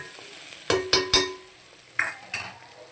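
Green egg curry frying in a pan, a steady soft sizzle broken by a few sharp clinks of a spoon against the pan, close up with no talk.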